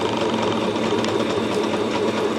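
A sewing machine stitching fabric for a dress, a steady close mechanical whir with a dense rapid needle rhythm that holds unbroken throughout.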